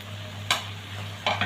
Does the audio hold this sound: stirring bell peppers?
yes